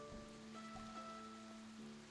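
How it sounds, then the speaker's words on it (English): Soft, steady rain ambience plays through a tabletop Pathfinder role-playing session, a faint continuous patter under a low sustained musical drone, with no voices. "It's currently raining in my ear."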